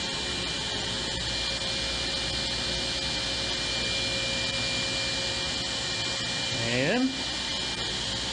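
A table saw runs with a tapering jig sled pushed through, giving a loud, steady whine and hum throughout, with a sharp rising tone as the blade cuts near the end. A brief word is spoken.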